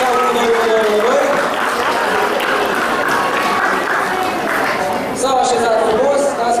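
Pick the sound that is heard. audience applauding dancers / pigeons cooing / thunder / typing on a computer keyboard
audience applauding dancers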